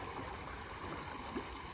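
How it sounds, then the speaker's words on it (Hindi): Fresh water runs steadily into a livestock pond at a rural cattle market in Mandi Bahauddin, a faint continuous trickling wash under broadband outdoor noise with no speech. "फ्रेश पानी इनके लिए चल रहा है"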